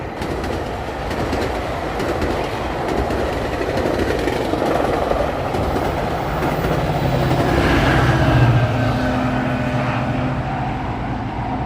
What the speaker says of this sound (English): That train was booking it.